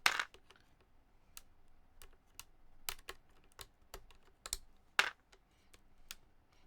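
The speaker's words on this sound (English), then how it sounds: "I'm just going to pull out all these switches, none of which are spacebar switches" Switches being pulled one by one from a mechanical keyboard give sharp, dry plastic clicks and snaps, irregularly spaced, close and fairly quiet.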